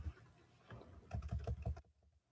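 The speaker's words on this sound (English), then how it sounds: "Let me type" Quiet computer keyboard typing of dates, a sparse few taps followed by a quick close burst of keystrokes that stops abruptly.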